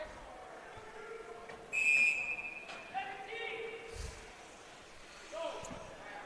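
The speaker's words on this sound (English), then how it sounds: "I don't know why he blew the whistle dead" Referee's whistle blasts briefly at an ice hockey game between the Eagles and the Lancers, a sharp high tone over a rink-side din with play-by-play commentary running throughout.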